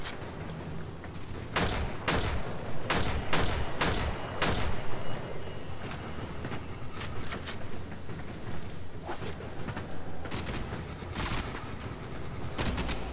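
Warframe gunfire: a rapid series of sharp Vatron and pistol shots in quick clusters, then scattered single shots over steady background game noise.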